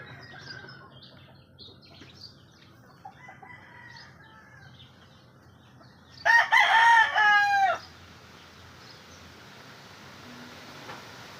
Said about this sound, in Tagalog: Nakabitaw pala yung ating isang manok. Ayan, naputol sa talian, nagbugbugan.